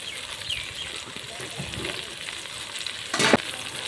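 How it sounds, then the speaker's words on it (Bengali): Chilli paneer ingredients, including Kashmiri red chilli powder, sugar and salt, fry in a pan with a steady, close sizzle and occasional stirring scrapes, plus a brief louder burst near the end. "সমস্ত উপকরণগুলো দিয়ে এখন ভেজে নেব।"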